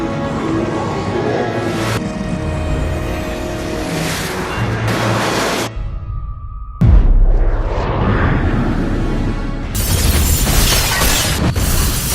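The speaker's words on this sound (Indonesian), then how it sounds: "bom atom akan segera diledakkan untuk menghancurkan Raccoon City" Atom bomb detonation destroying Raccoon City, a loud sustained roar and rumble that cuts to near silence, then slams back with a deep boom and a churning, continuous blast that lasts to the end.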